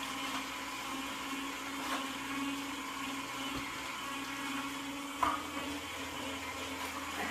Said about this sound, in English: It's always best to let the juicer extract the juice in its own pace.